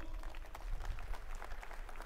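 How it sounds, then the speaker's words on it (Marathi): A crowd at a Maharashtra election rally claps to welcome candidate Ujjwal Nikam. The clapping is fairly quiet and sustained, with scattered crisp hand claps over a low rumble of the crowd. "जोरदार टाळ्या वाजवून त्यांचं आपण स्वागत करूया"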